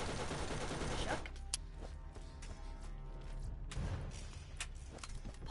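Gunfire in the video game Borderlands, dense and loud at first, then thinning into scattered sharp shots and thuds.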